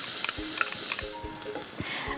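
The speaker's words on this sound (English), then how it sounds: "I'm going to let the onions cook for about 5 minutes." Chopped onion cooks in melted butter in a pan, giving a steady close sizzle with soft scraping stirs and light clicks of a utensil throughout.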